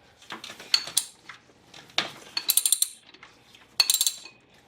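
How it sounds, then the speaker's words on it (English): A ratchet wrench clicks in short bursts while loosening and tightening the 12 mm timing belt tensioner bolt on a 1992 Acura Legend, with several separate runs of quick metallic ratcheting close up. "loosen the timing belt tensioner bolt 180 degrees, and then I will tighten it back up to the torque spec"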